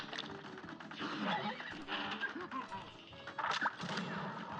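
A horse neighs and whinnies in the Cuphead DLC video game, bursts of whinnying mixed with hoof clip-clops and game effects, fairly loud throughout.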